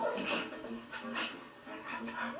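A dog whimpers and yips in short, pitched bursts at moderate volume, mixed with a voice in the background.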